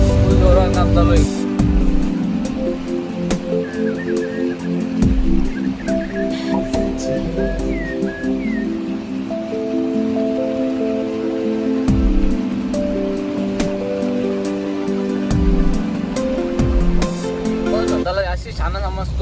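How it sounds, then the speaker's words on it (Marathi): Heavy rain pours down while a car drives along the Samruddhi expressway, making a dense, steady roar with the low hum of the vehicle underneath. Voices are heard inside the car. "एकदम फुल पाऊस पडायला लागले"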